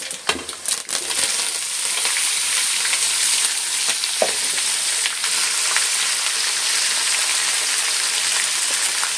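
Carrot, capsicum, onion, green chili and curry leaves fry in hot oil in a pan for upittu, giving a loud, continuous sizzle with a few stirring scrapes and clinks near the start and no voices.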